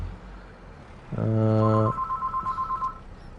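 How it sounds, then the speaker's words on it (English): A telephone rings nearby with a loud electronic tone burst followed by a quicker trilling pattern, heard clearly over a low background hum during a Farming Simulator 22 session. "pardon the phone ringing."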